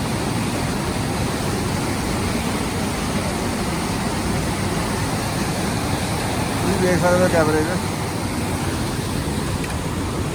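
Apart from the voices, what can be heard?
fast-flowing mountain river water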